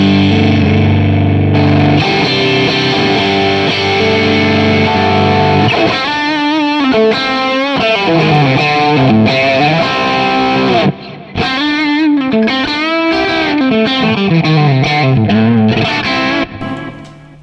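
Electric guitar played through a Kemper amp set to slight overdrive, loud and continuous: sustained chords first, then a flowing run of single-note melodic lines with mild distortion and effects shimmer, no voices.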